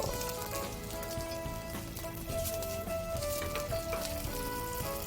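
Duck fat sizzles and crackles steadily in a pan over carefully adjusted heat as it renders out while making sukiyaki, a soft, continuous frying hiss with no talking.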